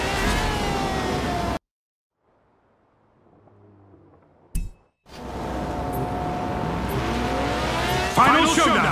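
Race cars roar through a video game race, a loud engine and tire-noise mix that cuts to silence, then a faint hum and a short burst before the cars return at full, steady volume.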